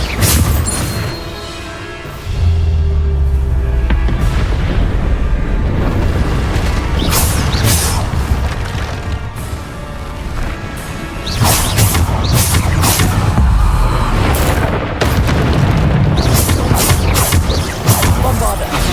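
Bombarda spell explosions burst repeatedly in Hogwarts Legacy combat, loud dense booms and crashes over a constant roar of battle effects with whooshes mixed in, while a voice speaks intermittently over it.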